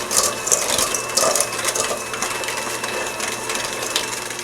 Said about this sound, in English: we are going to beat this on high for about 1 minute.